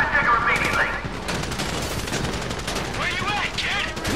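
Heavy gunfire in the video game Grand Theft Auto 5 during an assault on Paleto Bay, a dense mix of rapid bursts and scattered shots under shouted voices and game chatter.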